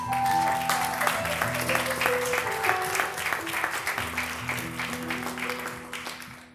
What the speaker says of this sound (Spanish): Den un aplauso a Cristo, hermano.